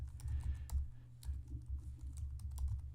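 Name being typed on a computer keyboard, a run of quick, close, irregular key clicks over a steady low hum.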